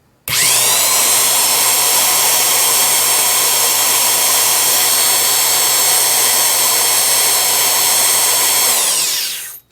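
Vintage Milwaukee 0950-1 half-inch corded electric drill running in forward, starting abruptly and holding a loud steady high-pitched motor whine for about nine seconds before spinning down, heard alone without talk.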